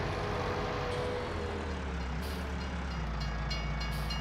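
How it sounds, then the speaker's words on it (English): A train rumbles past in Farming Simulator 19, a loud, steady low roar of rolling wagons that fills the whole moment with no talk over it. "There's the train."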